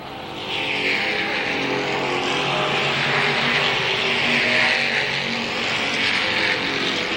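Sportsman race cars go by on a lap at Capital Speedway, a loud, continuous high engine drone swelling and easing as the pack circles close by.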